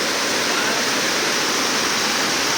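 A waterfall pours in a steady, loud rushing roar of broadband water noise, constant and close, with no voices.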